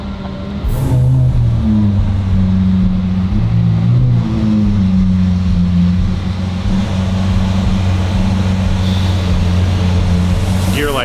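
A Lamborghini SVJ with a fault rumbles loudly up close as it is pulled in, a steady deep engine drone with slight shifts in pitch and no clear rev spikes.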